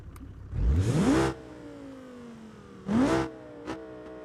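Engine revs of a rear-wheel-drive ETK five-cylinder with a sport exhaust and turbo in BeamNG.drive: two loud rising bursts, each spooling up then falling away, with a steady whine between and a short blip near the end.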